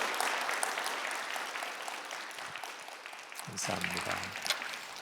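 A church worship service congregation claps steadily at moderate volume, the applause tapering slightly, with a short low voice murmuring near the end.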